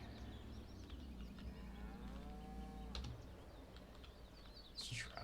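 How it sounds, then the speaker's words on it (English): A cow in Farming Simulator 19 moos in one long, drawn-out call of moderate loudness, with a low engine drone running steadily underneath and a brief bird-like chirp near the end. "Cow's in my way."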